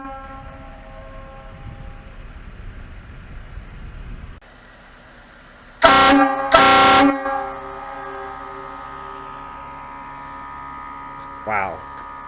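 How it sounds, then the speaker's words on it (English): Train horn fitted to a Jeep blasts outdoors in two loud, sustained harmonic bursts, very close and dominating, after a stretch of low engine and electrical hum; a faint brief tone follows later. "We're gonna try out the horn."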